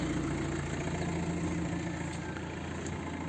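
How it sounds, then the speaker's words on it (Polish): A Subaru with a swapped Denso common-rail diesel idles in a garage, a smooth, even low chug that holds steady and fairly quiet at close range, with no speech. "fajnie miękko, miękko silnik pracuje"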